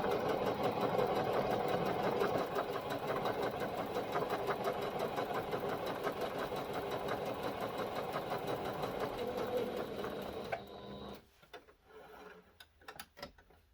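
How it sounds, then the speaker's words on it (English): A sewing machine runs a gathering stitch along the bottom edge of a child's tee sleeve, a steady continuous whir for about ten seconds before it stops and a few small handling clicks follow. "we are going to add a gathering stitch along the bottom of our sleeves"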